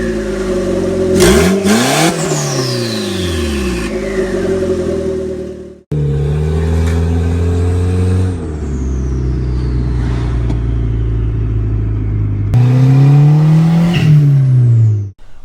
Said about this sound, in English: I'll give it a rev for you so you can hear how it sounds